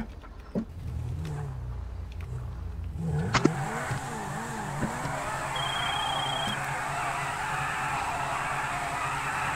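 A car engine in GTA5 idles low, then revs up and settles into a steady, loud driving drone that stays constant to the end.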